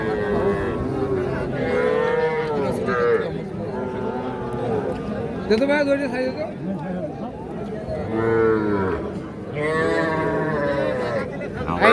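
Young calves mooing at a busy cattle market, several drawn-out bellows close by, overlapping crowd chatter and voices talking throughout.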